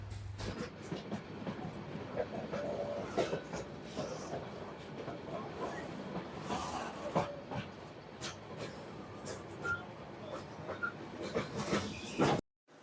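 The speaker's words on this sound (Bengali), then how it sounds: "আমাদের ট্রেনটা কক্সবাজার স্টেশনে ঢুকে পড়লো" Cox's Bazar Express train rolling into Cox's Bazar station after a long journey: continuous rumble and clatter of railcars, recorded from on board, with scattered thumps, faint voices and a distant dog, ending abruptly.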